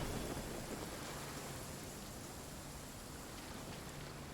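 Rain falls in the Genshin Impact video game as a soft, steady hiss of dense drops. It stays even and fairly quiet throughout, with no voices over it.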